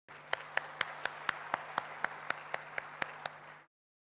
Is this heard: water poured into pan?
no